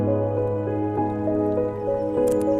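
Spring water at Triveni Khola in Nuwakot trickles and drips steadily close by, with soft gurgling drops over a continuous flowing wash, no voices.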